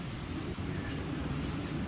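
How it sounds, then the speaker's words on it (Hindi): Heavy rain pours outside in a Hindi cartoon, a steady, dense wash of falling water at even loudness with no voices over it. "बाहर इतनी तेज बारिश हो रही है"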